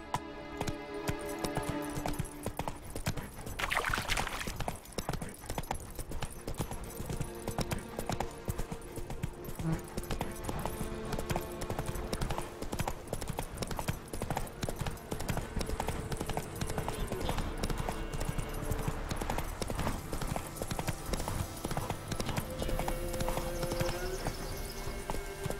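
Roach the horse gallops in The Witcher 3, with rapid rhythmic hoofbeats running steadily throughout under game music and ambience. A whinny rings out once, and a voice speaks briefly.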